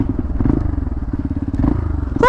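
A motorcycle, near and loud, rides into Elephant Adventure Park on a cold Sikkim trip toward Nathula Pass, with its engine chugging in a steady low throb. A brief high chirp comes at the end.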